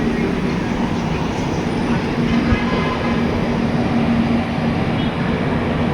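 A passenger train on the Mangaluru–Yesvantpur route rolls steadily near Banaswadi, heard from inside the carriage as a loud continuous rumble with a faint rhythmic clatter and a low steady hum.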